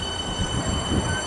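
A Melbourne suburban train on a Werribee service rumbles past at Laverton, a brief loud, close roar of wheels with a high steady whine above.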